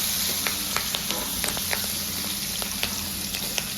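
Mustard seeds, asafoetida and chilies sizzle in hot oil, a steady close frying hiss with scattered sharp crackles and pops throughout.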